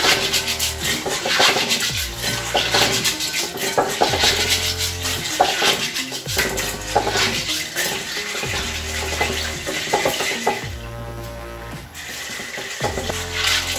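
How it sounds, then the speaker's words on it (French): Beans being washed by hand in a salad bowl give off close, continuous water sloshing and swishing with repeated rhythmic surges and clinks, as if the grains are stirred and rinsed in regular strokes. "je lave bien mes haricots dans un saladier"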